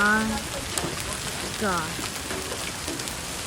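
Hail pelting down outside in Greeley, with cars exposed to it, a dense steady patter and clatter under a woman's startled exclamation.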